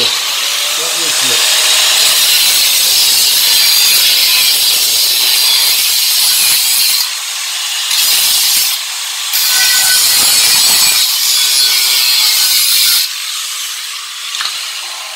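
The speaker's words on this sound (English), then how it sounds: "I've cut the all them bits of metal off now" A power tool loudly cuts metal pieces off a mobility scooter being turned into a child's buggy, a harsh, sustained grinding in several long bursts separated by brief pauses, with no talk over it.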